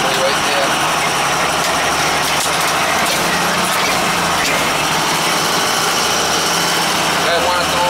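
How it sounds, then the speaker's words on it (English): The draft blower assembly of a gas furnace runs loudly with a steady, dense mechanical drone and rattling hum that continues without a break, close and unchanging. "draft blower assembly right there."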